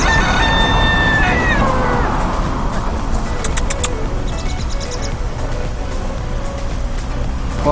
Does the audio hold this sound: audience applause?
no